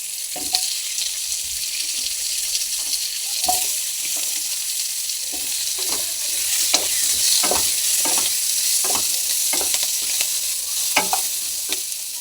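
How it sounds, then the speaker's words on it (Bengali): Cut potatoes frying in hot oil, giving a loud, steady high sizzle punctuated by repeated stirring scrapes and clinks of a utensil against the pan. "আলুগুলো এবার তেলের মধ্যে দিয়ে দেবো।"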